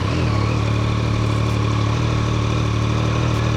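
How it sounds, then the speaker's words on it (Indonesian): A Yamaha MT-09 SP three-cylinder motorcycle engine idles steadily, a smooth low hum with an even throb, close and constant throughout. "Ini suaranya pas stasioner, khas banget mesin 3 silindernya Yamaha ya"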